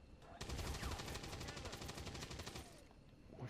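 Rapid, sustained automatic gunfire from the tactical strategy game X-Com 2, a dense stream of shots hammering steadily for about two seconds before stopping abruptly.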